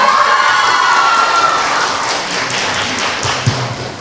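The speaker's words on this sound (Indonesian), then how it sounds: "Tepuk tangan buat SMA Tunas Bangsa" Applause and cheering from a crowd for SMA Tunas Bangsa at a student ambassador pageant, loud at first and then easing off, with scattered shouts and a sharp tap near the end.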